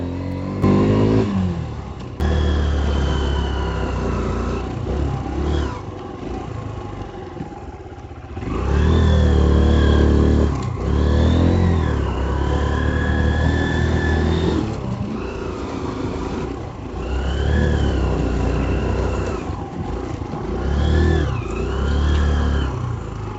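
Car engine laboring up a steep, curving road toward a hilltop temple, a loud droning hum that swells and eases with gear changes and climbs, heard from inside the vehicle with no talk.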